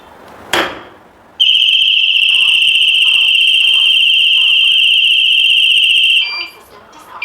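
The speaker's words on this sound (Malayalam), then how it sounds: "അപ്പോൾ അത് നമ്മൾ സിസ്റ്റം വഴി സെൻസ് ചെയ്തിട്ടുണ്ട്, അലാം ജനറേറ്റ് ആയിട്ടുണ്ട്" A smart security intrusion alarm set off by a hammer striking a wall: one sharp bang, then a loud steady piercing electronic tone sounding for about five seconds before cutting off, with faint talk underneath.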